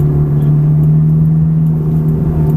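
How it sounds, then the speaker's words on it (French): A steady Ferrari F430 engine hums and rumbles at a constant low pitch while accelerating, close by, with no clear rise in revs. "il faut profiter de cette phase d'accélération où il faut sentir un peu le punch de la voiture"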